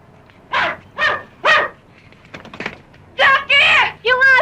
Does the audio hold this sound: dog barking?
yes